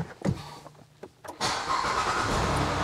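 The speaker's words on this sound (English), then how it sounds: "it tells you to start the engine. So let's go start the engine" A car engine cranks during a battery crank test, with a few clicks and brief starter bursts before it catches and settles into a loud, steady idle.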